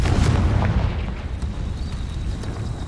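A Confringo spell explodes in Hogwarts Legacy with a deep, close boom that rolls off into a rumbling, fading tail over a couple of seconds.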